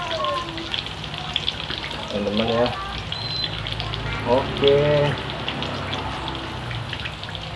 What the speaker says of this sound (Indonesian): ceker kloter kedua gorengnya teman-teman